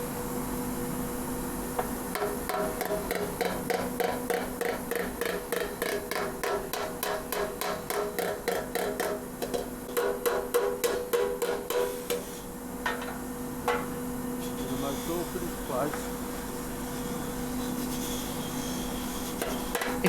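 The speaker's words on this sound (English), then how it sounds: "he's using that bar to put some pressure on the underside of the dent, and then he's hitting around the dent" A dent in the fuel tank of a BSA Empire Star motorcycle is worked out with a hammer while a bar presses from underneath, making rapid bursts of light metallic taps in quick runs, then sparser knocks amid faint room hum.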